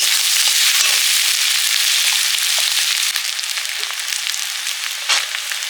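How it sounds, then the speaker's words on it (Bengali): Chopped onions fry steadily in a pan with a dense, continuous sizzle that stays loud and close throughout, and a few brief crackles pop out near the end. "পেঁয়াজ কুচি কড়া করে ভাজবো না হালকা করে ভাজবো"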